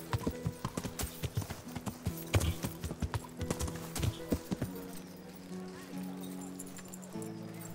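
Horse hooves clip-clopping at a steady trot while riding in Kingdom Come Deliverance, close rhythmic thuds that quicken and then slow, with a horse whinny and someone talking over them.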